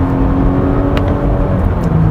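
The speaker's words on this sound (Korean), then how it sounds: "엔진이 그 회전하는 느낌이 뭔가 좀 쥐어 짜내면서 돌아가는 느낌이어서 풀 가속했을 때의 그런 그 느낌은 아주 그렇게 좋진 않습니다" A Volvo S90 B5 engine revs hard under full acceleration, a loud, steady strained drone heard from inside the car with a faint whine on top and no talking.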